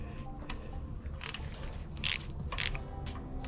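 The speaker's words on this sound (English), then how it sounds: "We're just going to go ahead and put the socket on there, give it a wrench, and see if it'll turn by itself." A socket wrench ratchets on a 14 mm bolt of a Subaru Impreza 2.5RS control arm, giving a few short, close clicking bursts spaced unevenly as the handle is worked back and forth.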